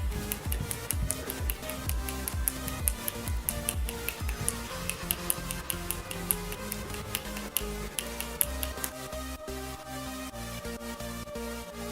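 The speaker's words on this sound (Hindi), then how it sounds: "इस शख्स ने 1 मिनट में 296 बार चुटकी बजाई है" Rapid, dense finger snapping in a world record attempt, a fast run of sharp clicks over roughly twelve seconds alongside background music and other sounds.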